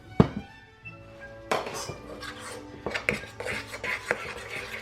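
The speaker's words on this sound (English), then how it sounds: "And you stir that up till it's nice and combined." Flour and water being stirred together in a bowl for a sourdough starter, with a utensil clinking and scraping against the bowl in irregular close knocks and taps.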